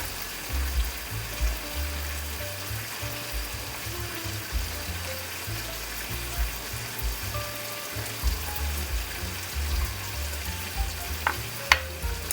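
Teriyaki chicken and green onions fry in a pan with a steady, close sizzle, and a few soft stirring knocks sound through it. Nobody speaks.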